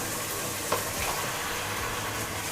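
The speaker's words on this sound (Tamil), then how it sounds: "சிக்கனை சேர்த்துட்டு கலந்து விட்டுருங்க" Half a kilo of chicken pieces sizzles in a pan of softened tomatoes for a Madurai-style chicken curry, a steady hiss with a spoon stirring through it and one brief knock.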